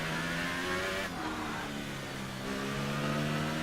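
A Formula 1 car racing in wet conditions in F1 2018 at Spa, its engine note droning and shifting pitch continuously with a brief dip partway, loud and close.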